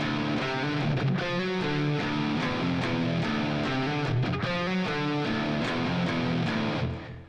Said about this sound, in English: And then we have the verse riff, which sounds like this.